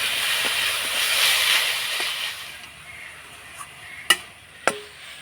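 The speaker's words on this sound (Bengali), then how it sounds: "তো নাড়াচাড়া করে আমি পুরটা তৈরি করে নিয়েছি পিঠের জন্য।" Coconut and jaggery filling stirred in a wok, a steady sizzling hiss that fades after a few seconds, followed by a couple of sharp utensil scrapes and taps.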